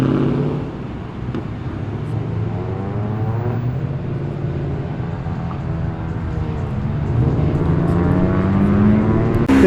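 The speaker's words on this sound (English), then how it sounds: "the beautiful burble of the V8" Holden Commodore V8 panel van and ute pulling away from a car show in Penrith, their engines burbling steadily and loud at close range, with a low throb swelling slightly toward the end.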